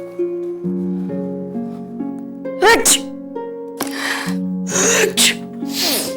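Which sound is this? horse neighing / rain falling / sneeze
sneeze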